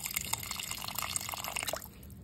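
Water poured into a pot of duck soup (caldo de pato) being cooked at home, a steady splashing, dripping pour heard close for about two seconds before trailing off.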